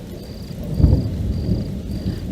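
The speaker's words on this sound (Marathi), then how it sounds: "पाऊस कोसळतोय." A thunderstorm with pouring rain: a deep rumble of thunder swells and fades beneath a steady, dense downpour, with a faint high insect-like tone recurring at intervals in the background.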